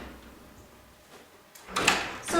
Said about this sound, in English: So we practice opening and closing the door.